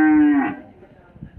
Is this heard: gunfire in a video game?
no